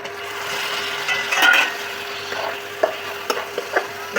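Spices with cumin powder and salt frying in a pan, with a hilsa fish head about to go in, give a steady soft sizzle with occasional scraping stir clicks and utensil taps close by, no talk.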